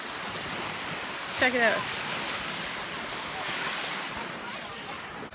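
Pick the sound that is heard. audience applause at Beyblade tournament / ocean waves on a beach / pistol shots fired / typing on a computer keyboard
ocean waves on a beach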